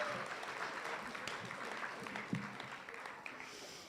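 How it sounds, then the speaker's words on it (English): An audience at a student showcase applauds, a soft, distant wash of clapping that holds steady throughout. "give them a round of applause."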